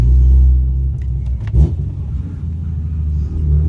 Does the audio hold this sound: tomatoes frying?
no